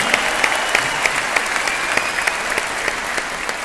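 A large audience at a Delhi business gathering applauds leaders with loud, sustained clapping that has a few sharper bursts and continues steadily without a break.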